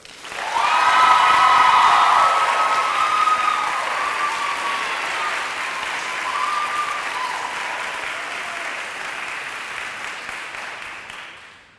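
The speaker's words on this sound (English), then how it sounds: "Let's give it up for the incredible Kathryn Nadina Smothers" A school audience applauds after a senior speaker is introduced, with sustained clapping and some cheering rising quickly, holding loud for several seconds, then slowly tapering off.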